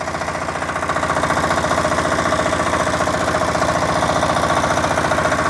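A walk-behind tractor engine runs in low gear with a loud, steady, close-up chugging thump, continuous throughout without talk.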